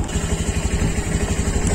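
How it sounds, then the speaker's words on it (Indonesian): Engine of a nearly new Honda Beat motorcycle with about 832 km on it runs steadily at close range, a continuous low rumble with a fast, even pulse throughout. "Suara mesin juga ya masih enak ini."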